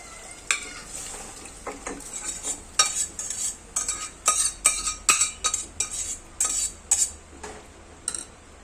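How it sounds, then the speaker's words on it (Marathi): Cooked chicken is tipped into fried masala paste in a pan and stirred, giving repeated close scraping and clattering strokes of a spoon over a soft sizzle. "तर आपण ह्याच्यामध्ये ना हे आळणी चिकन जे शिजवलं होतं ते ओतून घेऊया."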